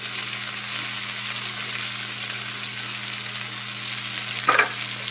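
Chorizo with tomato and onion crackles in a pan in a steady, soft, continuous sizzle at low heat, with a brief scrape of stirring near the end.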